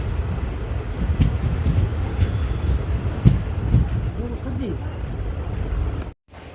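A train pulls away from Gulma station near a forest, with a steady low rumble of rolling wheels and carriage noise, a few faint squeals and thumps, heard from on board.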